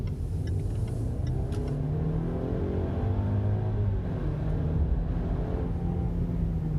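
A 2020 Land Rover Discovery Sport with a turbo engine accelerates, its engine note rising steadily in pitch under a constant rumble of road and cabin noise.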